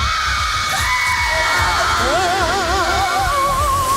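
A large crowd screaming and shrieking together, loud and sustained, with wavering high-pitched yells rising over a dense roar.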